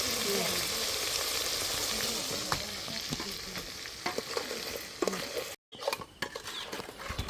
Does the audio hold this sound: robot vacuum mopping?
no